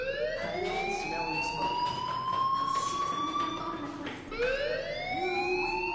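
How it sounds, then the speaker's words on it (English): A fire alarm wails in the video game Life is Strange: a loud, continuous rising siren tone with a brief dip and restart near the end, steady and close throughout. "Hey, do you hear that fire alarm?"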